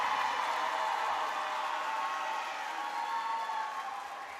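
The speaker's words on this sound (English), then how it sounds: "graduates, they just gave you a round of applause" A high school graduation audience applauds and cheers in a large hall, a dense, even wash of clapping that holds steady and slowly tapers.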